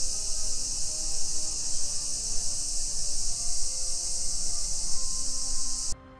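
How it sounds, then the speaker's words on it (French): Cicadas drone in a Japanese summer, a loud continuous shrill buzz that holds steady for several seconds and then cuts off abruptly near the end. "Ah, c'est des cigales, voilà, j'ai retrouvé"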